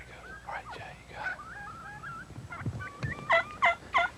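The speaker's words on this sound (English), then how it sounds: "We had busted this flock of turkeys up we'd found on the evening before and busted them up." Wild turkeys from a scattered flock in Oklahoma woods call in faint, distant yelps and clucks, then a few louder, nearer bursts at the end, with some low rustling between.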